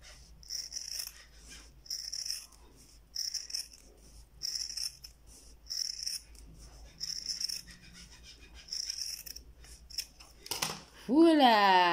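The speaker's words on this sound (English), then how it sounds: "Make sure you trim very close to your stitch." Scissors trim the cord of a handmade cord sandal slide close to the stitching: a steady series of crisp, close snips, with a brief rising squeak near the end.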